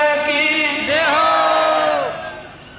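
A large audience at a felicitation ceremony roars "jai" together, a loud, sustained, ringing group shout that swells and then tapers off, alone without other talk.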